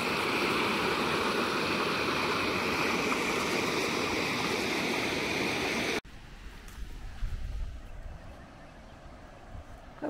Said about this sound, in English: we can't do anything until this water subsides some, because it is just flowing too fast